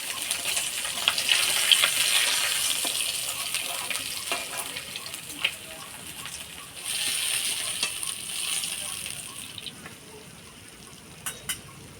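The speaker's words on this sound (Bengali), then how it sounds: "আঁশ ছাড়া মাছ ভাজার সময় কিন্তু ফোটে, যেমন বোয়াল মাছ, গুলশা মাছ, পাবদা মাছ" Pabda fish frying in hot oil, a broad steady sizzle with scattered small pops and crackles, fairly close and moderately loud, easing off toward the end with a few sharp spits.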